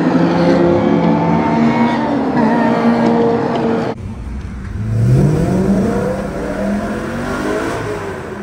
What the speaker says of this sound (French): La RS6, quand tu la vois arriver, elle fait méchante.